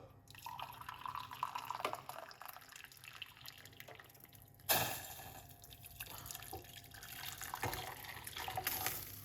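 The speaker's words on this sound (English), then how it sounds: "1 large cup of hot water I've been using" Hot water trickles and splashes into a pot, with a brief louder clank partway through and steady pouring continuing afterward.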